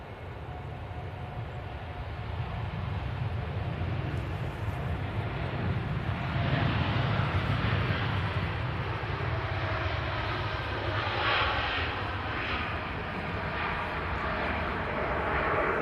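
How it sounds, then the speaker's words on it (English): A Boeing 787-9 Dreamliner starts its takeoff roll at Manchester Airport, giving a continuous, broad jet roar heard from a distance that holds steady and swells slightly across the whole stretch. "787-9 on the roll."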